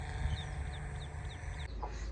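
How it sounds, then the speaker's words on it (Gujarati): A hen with newly hatched chicks on a farm gives low, steady clucking while the chicks' high, thin peeps repeat in a quick series close by. "મરઘીના બચ્ચા ફરીથી આવ્યા છે"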